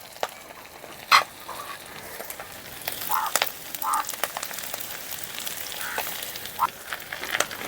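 Aar fish head and potato pieces fry in oil in a pan, making a faint, steady sizzle with scattered small pops and crackles.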